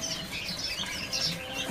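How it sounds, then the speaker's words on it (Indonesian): Small deco mini finches chirping in a bird market, a dense busy chatter of high tweets and calls running continuously at moderate distance with no speech. "Di sini ada burung deco mini ya."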